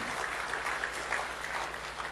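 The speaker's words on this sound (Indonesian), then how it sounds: "Kita berikan tepuk tangan bagi Tuhan." A church congregation gives a sustained, dense wash of clapping in praise of God. The claps blur into a steady even roar with a faint background hum.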